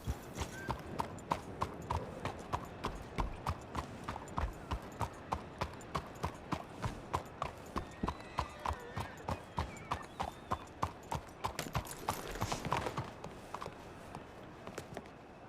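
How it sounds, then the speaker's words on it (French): Horse hooves clip-clop steadily through a video game town, with carts rolling alongside and an occasional whinny; the rhythmic clatter stays dense and close throughout, without any talk. "Il y a des chevaux et des charrettes invisibles en fait."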